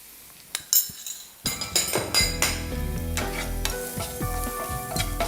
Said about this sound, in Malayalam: കരിയാതെ ഇളക്കിക്കൊണ്ടിരിക്കണം